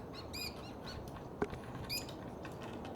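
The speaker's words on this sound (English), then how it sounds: "Some birds still around singing" Birds chirping outdoors at about 7 am under a hazy sky, several short bright tweets and call phrases scattered over a steady wash of background ambience, moderately distant with one brief tap in the middle.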